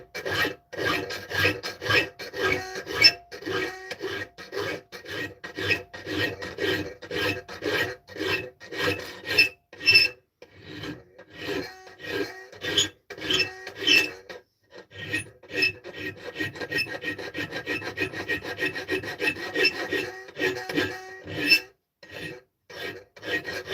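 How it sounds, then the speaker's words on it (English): Hand file rasping on a wrought iron flintlock trigger guard in a shop, steady rhythmic back-and-forth strokes, close and fairly loud, with brief pauses between runs and no talking. "I was just out here in the shop filing away"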